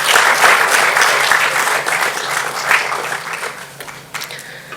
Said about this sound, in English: Please give a big round of applause for the amazing founders of WiREnet.